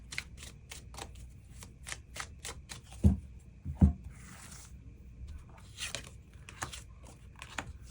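Tarot cards are drawn and handled at close range, making a run of quick papery flicks and slides, with two heavier taps near the middle and softer rustles toward the end, and no talking.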